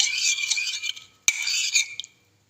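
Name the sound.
stirring spices into water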